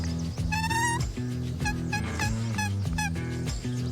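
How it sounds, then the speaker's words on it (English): A cat-like animal call, a wavering meow-like cry, sounds several times over a steady low drone and a busy background, fairly loud and close. "Sounds like a cat."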